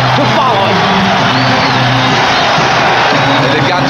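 A loud, roaring basketball arena crowd cheers continuously at the 1992 NBA Finals between the Chicago Bulls and Portland Trail Blazers, a dense wall of noise with whoops and yells.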